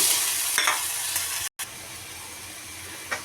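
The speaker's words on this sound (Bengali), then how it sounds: "এখানে আমি মশলা বাটা দিয়ে দিব" Ground spice paste fries in a hot pan and is stirred for a Bengali fish bhuna, with a steady loud sizzle and scraping stir strokes; one brief dropout occurs partway through.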